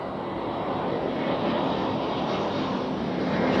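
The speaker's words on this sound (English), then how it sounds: "So now we have the A321neo inbound from Palma." An Airbus A321 jet airliner inbound to Zurich Airport gives a steady, broad engine roar that swells slightly as it approaches. The sound is continuous and fairly loud, with no voices.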